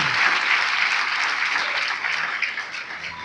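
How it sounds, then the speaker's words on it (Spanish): Loud, sustained applause from a church congregation, dense clapping filling the space steadily for the whole stretch without a break and tapering only slightly near the end. "Denle un aplauso fuerte al Señor."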